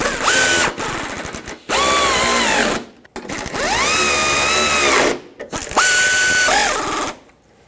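A power driver whines as it runs screws into the plastic fender liner clips of a Toyota Tacoma, giving several sustained, rising motor whirs with short breaks between them, loud and close.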